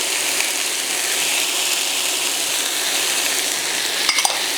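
Jambalaya vegetables fry in a pot with a steady, even broadband sizzle while being stirred, a couple of brief scraping knocks near the end.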